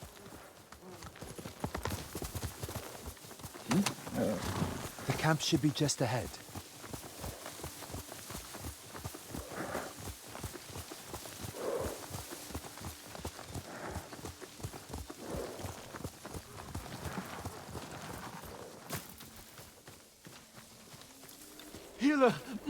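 Steady clip-clop of horse hooves trotting on ground in the video game Ghost of Tsushima, rhythmic and continuous at close range, with a voice speaking briefly over the hoofbeats.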